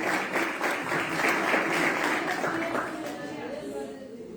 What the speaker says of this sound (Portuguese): Dá uma forte salva de palmas do Senhor.